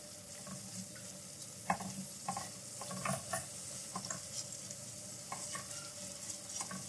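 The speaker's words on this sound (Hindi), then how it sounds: "थोड़ा थोड़ा पानी साथ साथ डालकर मसाले को हम अच्छे से भून लेंगे" Masala being fried and stirred in a pan with a little water added: a steady soft sizzle with scattered scraping spoon strokes against the pan, close but quiet, no voices.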